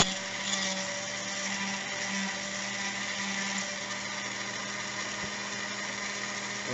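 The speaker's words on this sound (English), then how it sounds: "Now I'm going to take my vice grips with my drill bit. I'm just going to clean it out" A steady high-pitched mechanical whirr as a drill bit held in vice grips is turned to clean out a lock security pin, with a constant hum underneath and no pauses.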